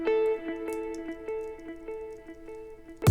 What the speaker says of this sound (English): And I'm going to add this little guitar melody for the midsection of this drop.